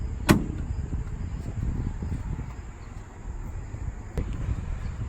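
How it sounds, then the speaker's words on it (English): A door on a custom 1939/40 Ford shuts with one sharp close thunk, followed later by a second fainter latch click over quiet outdoor background. "Watch how these doors close too."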